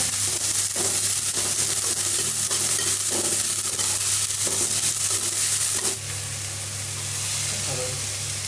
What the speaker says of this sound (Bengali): কাঁচা লঙ্কা, আদা বাটা, সাথে পেঁয়াজ। এইগুলোকে একটু ভেজে নেব।